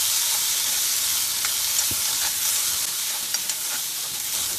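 Chickpeas and grated coconut frying for Kerala sundal give off a constant close hiss and sizzle, with faint soft stirring scrapes and no talking.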